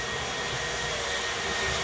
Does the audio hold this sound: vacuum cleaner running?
yes